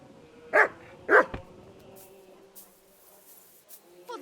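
A dog barks twice in the video game Kingdom Come: Deliverance II, two sharp, fairly loud barks close together, followed by quieter ambient sounds.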